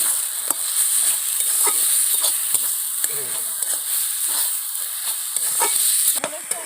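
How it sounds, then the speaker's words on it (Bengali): Kohlrabi and potato filling with chilli powder sautéing in a pan for paratha, a steady sizzle with repeated scraping stirs throughout. "এবার আমি ওর মধ্যে 1 চামচ লঙ্কার গুঁড়ো দিয়ে দিলাম, দিয়ে ওটাকে ভালো করে শুকনো শুকনো করে নেব, কষিয়ে কষিয়ে"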